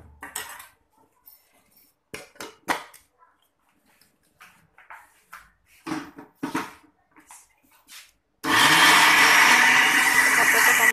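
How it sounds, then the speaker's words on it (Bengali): An electric blender grinds dried fish with salt into a mash. A loud, steady motor whir starts near the end, after scattered kitchen clatter and a few brief knocks. "লবণ দিয়ে ব্লেন্ডার, ব্লেন্ডারে দিয়ে দাও"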